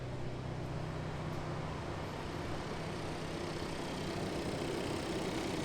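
A rebuilt Hyundai Veloster engine, recovered from a flooded auction car, runs with its belt off: a steady, even idle hum that holds without a break throughout.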